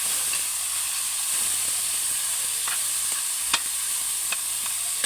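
Chopped pork frying in a pan to render its fat gives off a steady, even sizzle throughout, with a few soft stirring clicks and scrapes, close by and with no voices.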